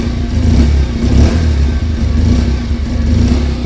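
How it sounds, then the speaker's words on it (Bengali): Exhaust note of a 2025 Bajaj Pulsar 125 motorcycle, a steady loud close-up engine rumble with a low idle drone and slight rises in revs throughout, no talking. "সবার আগে এর এক্সস্ট সাউন্ড একবার শোনা যাক।"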